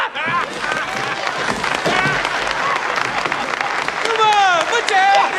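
A crowd applauds a retiring chairman, steady clapping throughout with cheering and excited voices mixed in, loud and close, swelling toward the end.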